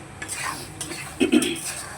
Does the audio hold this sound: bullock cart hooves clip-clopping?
no